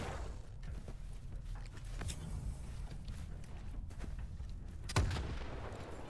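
An RPG rocket explodes in the video game STALKER 2 with a single sharp, heavy boom partway through. It stands out over a steady rumbling game ambience and a few duller thuds, with no talk.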